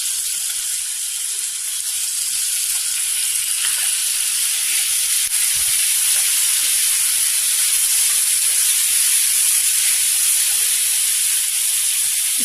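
Tomatoes drop into garlic frying in a pan, giving a loud, steady sizzle and hiss that holds evenly throughout with no talking.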